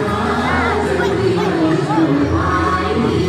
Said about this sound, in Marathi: मंदिरात आलो आहे, फुल गर्दी.